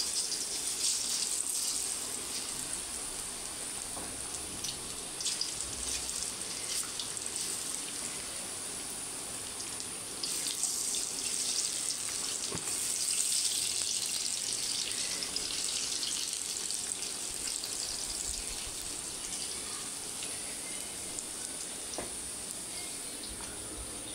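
Steady water from a kitchen tap runs continuously over hands being washed. A sustained hiss with small fluctuating splashes carries on throughout, close and fairly quiet, with no talk.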